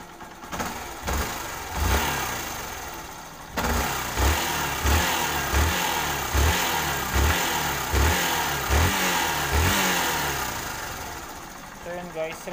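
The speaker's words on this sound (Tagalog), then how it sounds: "So rev natin kung goods ba." Yamaha SZR motorcycle engine fitted with a Tmx 155 carburetor, revved repeatedly in short bursts that fall back to idle, roughly a dozen close, punchy revs in a steady rhythm, with someone talking over it.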